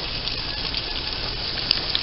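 Chicken and corn on the cob cooking on an indoor grill give a steady, close hiss of sizzling fat that holds an even level throughout, with a couple of small pops near the end.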